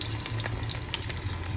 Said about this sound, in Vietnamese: Bây giờ em sẽ bắt đầu chiên. Đó, em sẽ bỏ vô chảo chiên từ từ